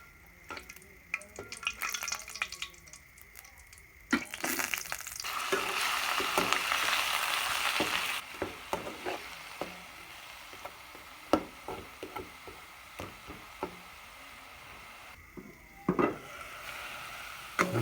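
Ginger, onion and garlic frying in a pan: a soft steady sizzle that swells for a few seconds, broken by repeated clicks and scrapes of a utensil stirring against the pan.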